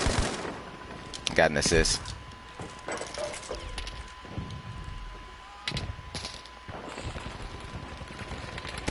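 Breda M1935 PG light machine gun firing in Battlefield V multiplayer, sharp bursts of automatic fire with distant shots around, under a player's talking.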